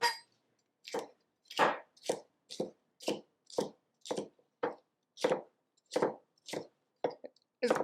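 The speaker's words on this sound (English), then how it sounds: "As you see, I'm doing a lot of chopping" Knife chopping vegetables on a board during a low-carb cooking class: about fifteen distinct crisp chops in an uneven rhythm, close and clear against silence, with no talking.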